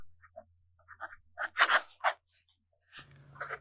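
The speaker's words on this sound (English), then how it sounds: "The next writing sample is done in a FieldNotes reporter's notebook." A fountain pen with a soft fine nib scratches across the paper of a FieldNotes reporter's notebook in short, close, distinct strokes with brief pauses between them.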